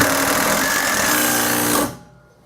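Drill boring through a thick carbon steel safety rail, a steady loud grinding whine that runs continuously then cuts off abruptly near the end.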